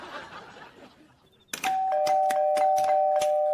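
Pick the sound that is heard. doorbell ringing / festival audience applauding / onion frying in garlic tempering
doorbell ringing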